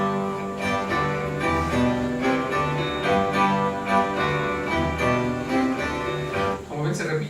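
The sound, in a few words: 17th-century chaconne (chacona) music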